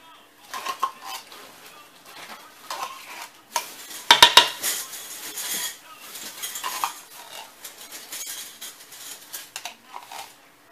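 Metal mason jar rings and lids clink and rattle as they are gathered for canning meatloaf, with a loud burst of clattering in the middle, set against intermittent talk nearby.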